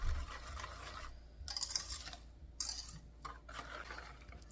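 Brownie batter stirred in a bowl, a steady scraping and rubbing of utensil against the bowl in uneven strokes, close and moderately quiet with no talking.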